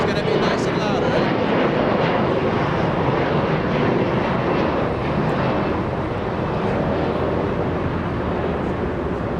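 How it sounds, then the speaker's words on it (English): A Boeing 747 takes off at Los Angeles International Airport, its engines a loud, steady broadband roar that fills the whole stretch, with people talking faintly beneath it. "we're gonna have a big 747 takeoff in just a few minutes"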